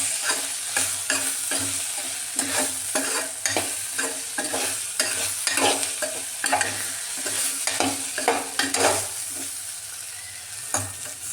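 Onions frying in oil for an okra fry, sizzling steadily up close under frequent rhythmic scrapes of a spatula stirring through the pan. No talking.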